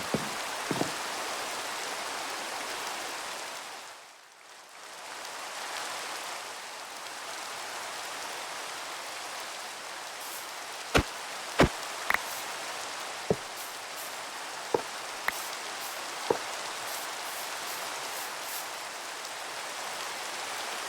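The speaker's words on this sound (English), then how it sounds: "this rain is just gonna keep going" Minecraft rain: a steady, dense hiss of falling rain that dips briefly early on, then continues with a series of sharp, isolated clicks layered over it.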